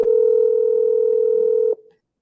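A single steady telephone tone holds for nearly two seconds and then cuts off, loud and clear with no talking over it.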